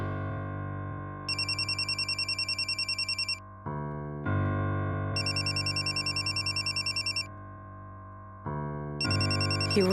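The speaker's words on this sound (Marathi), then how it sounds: "एवढ्या रात्री हिचा फोन का?" A telephone ringtone rings late at night, a loud melodic electronic pattern repeating in three cycles with a steady pulsing chime, close and alone with no voices.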